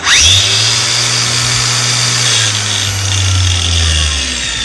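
A Makita LXT cordless variable-speed angle grinder runs steadily at its lowest speed setting, giving a loud, constant motor whine with a low steady hum, close by and alone after a quick spin-up.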